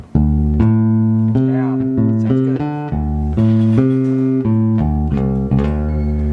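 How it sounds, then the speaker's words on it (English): A Fender Suona electric bass on its neck pickup plays a round, warm melodic line of sustained notes with rich low harmonics, clear and close. "then we can hear just the neck pickup, and it's nice and round"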